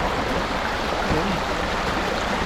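A flowing stream gives a steady broadband rush of water close by, continuous and even, with a faint voice briefly underneath.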